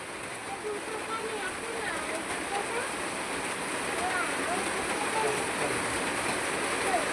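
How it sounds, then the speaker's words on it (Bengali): Heavy rain falls steadily on a house with a waterlogged courtyard, a dense, even hiss that grows slightly louder and never lets up. "এখন অবধি বৃষ্টি হয়েই চলেছে। বৃষ্টি থামার কোনো ব্যাপার নেই।"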